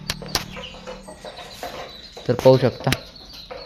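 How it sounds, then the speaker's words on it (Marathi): Chickens cluck in a farmyard, giving a short burst of loud clucks near the end. Before it come a few faint calls and sharp knocks, and someone speaks briefly. "अशा काही कोंबड्या आहे आपल्याजवळ"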